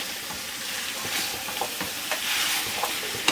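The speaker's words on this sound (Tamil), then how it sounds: "இதையும் போட்டு நல்லா வதக்கி விட்டுக்கோங்க." Bottle gourd sautéing in hot oil in a pan while being stirred, a steady close sizzle with scraping stir strokes and small crackles, no talk.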